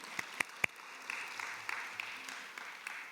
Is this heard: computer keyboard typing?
no